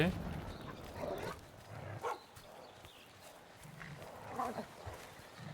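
A dog companion in the video game Monster Hunter Rise gives a few short barks and yips over game sounds, and someone talks in French over them.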